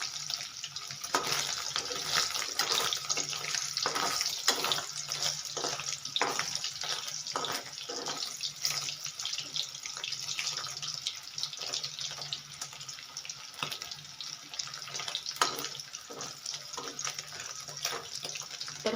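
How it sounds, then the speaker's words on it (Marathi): Paneer frying in hot oil in a home kitchen pan, a steady bright crackle of spitting, splattering oil with sharp pops running throughout, close and fairly loud, with no talking. "And be very careful while frying दिस पनीर कारण तेल कंटिन्युअसली अंगावर उडतंय."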